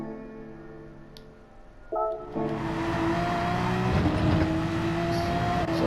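A Porsche 911 RS engine in Gran Turismo 7 pulls under throttle, its steady whine jumping in pitch at a shift and then climbing and droning loudly alongside a thin tire squeal.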